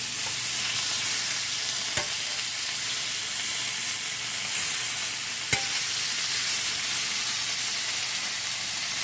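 Steak tips sizzle steadily in a hot cast iron pan, a loud, continuous frying hiss with a couple of sharp clicks as pieces are turned.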